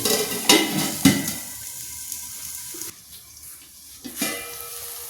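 Biryani ingredients sautéing in a pan, a continuous sizzle with a couple of sharp spoon clinks early on, quieting briefly before the frying hiss swells again.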